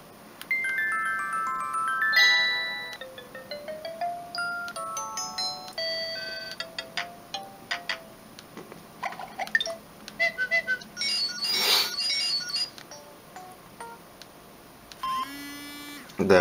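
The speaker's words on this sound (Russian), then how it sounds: "Еще и рингтоны сообщений надо посмотреть." A series of short electronic message tones from a Samsung C200 mobile phone plays one after another: chimes, beeps and melodic jingles separated by brief pauses, clear and close.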